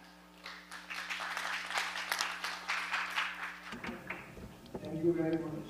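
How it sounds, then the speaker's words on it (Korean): An audience at an international ecological agriculture forum applauds before a keynote speech, a moderate patter of clapping over a steady electrical hum that cuts off, followed by a voice speaking briefly at the end. "여러분 박수 부탁드리겠습니다."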